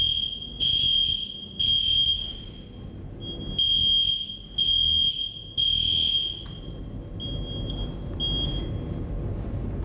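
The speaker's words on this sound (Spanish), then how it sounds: "vamos a ver cómo se dispara la alarma del sistema" A shelter's fire alarm system sounds in repeated high-pitched beeping bursts, loud and close, with an irregular rhythm of on-off pulses and a low hum beneath.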